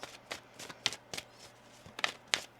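Tarot cards being shuffled in short, crisp riffling bursts, a handful of sharp flicks spread over a couple of seconds, close and fairly quiet with no talking.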